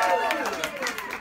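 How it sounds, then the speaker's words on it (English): Audience clapping for a volunteer named Vanna at a Yom Kippur preparation Torah class, a steady patter of many hands close by, mixed with crowd chatter and a voice speaking over it. "everyone clap for Vanna"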